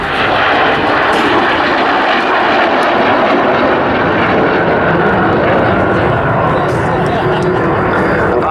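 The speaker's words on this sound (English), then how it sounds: "a twin-engined aeroplane, two Rolls-Royce Derwent engines, looking quite bulbous, centrifugal turbojets they were called" A Gloster Meteor NF11 twin-engine jet with two Rolls-Royce Derwent centrifugal turbojets roars overhead at RAF Cosford in a steady, loud, continuous rush of engine noise that barely changes for the whole stretch.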